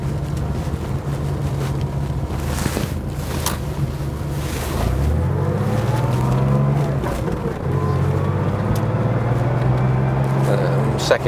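A 1975 Porsche 911 Carrera 3 Sport Targa driving in second gear, its engine a steady low drone under wind and road noise, with a shift and rising revs near the middle, and a voice talking over it.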